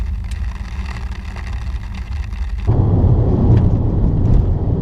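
A 2017 Subaru WRX swings through a U-turn in mud, its engine rumbling low and then surging into a louder, heavier roar partway through, close and without talk.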